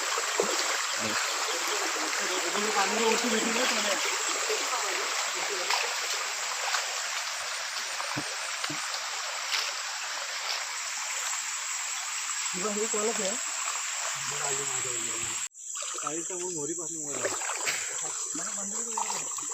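Several people wade through a river stream at night catching crabs, with continuous rushing, trickling water, occasional splashes and insect buzz, and faint voices talking in the background.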